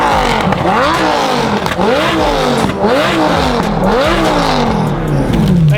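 A Lamborghini sports car drives through snow, its engine loud and close, repeatedly revving up and dropping back in rising and falling surges, with scraping and clatter mixed in.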